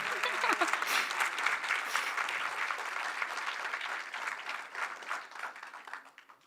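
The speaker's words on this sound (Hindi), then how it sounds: "जोरदार तालियां" An audience gives loud, sustained applause for a village woman from Rajasthan, with dense clapping filling the room at steady strength before gradually thinning and fading out.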